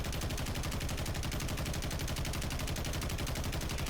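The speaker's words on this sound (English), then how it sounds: "So we ADS, and we're just going to pull the trigger and see what happens." A stock, unmodified gun fires in a video game: one long, unbroken stream of rapid automatic shots at a fast, even rate, loud and close, with no talk.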